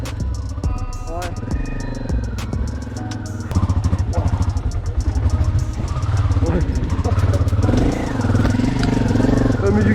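Honda Transalp 600 motorcycle revving hard off road, engine rising and falling in loud bursts with clattering over rough ground, people talking over it.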